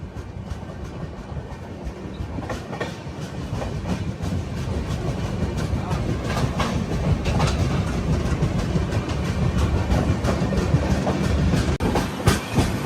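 Passenger train running on rails between Secunderabad and Goa, heard from inside: a continuous rumble with rhythmic clickety-clack wheel beats, steady and moderately loud, no voices.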